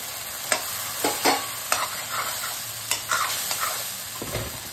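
Water poured into masala frying with black cumin in a pan for an okra do pyaza, giving a steady close sizzle broken by several sharp scraping stirs.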